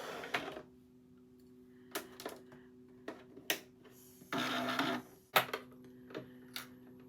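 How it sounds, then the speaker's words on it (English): A sewing machine stitches scrap fabric in short bursts, its needle ticking and clicking under a steady motor hum, with one longer continuous run in the middle; close and fairly quiet, no talking. "we're going to sew down this side and down this side"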